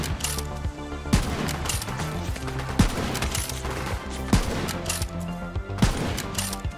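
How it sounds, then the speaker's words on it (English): Gunfire in the video game Borderlands 3, with repeated sharp shots cracking at regular intervals over a dense, loud game soundtrack, while a sniper rifle is brought into play. "let's use the sniper on him."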